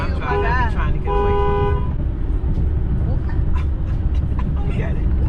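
A car horn wired to a speaker hidden in a car's trunk honks in short repeated toots, close and loud, over steady road noise inside the moving car.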